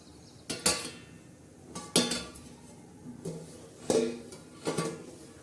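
A metal spoon stirs a spinach and dill vegetable dish with moong dal in a cooking pot, clanking against the sides in about five sharp, evenly spaced knocks over a quiet background.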